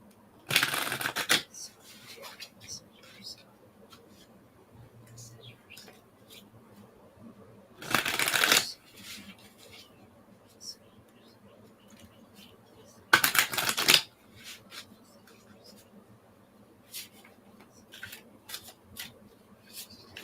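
Tarot cards being shuffled for a reading, three short crisp riffle bursts spaced several seconds apart, close and clear, with soft handling noises between them.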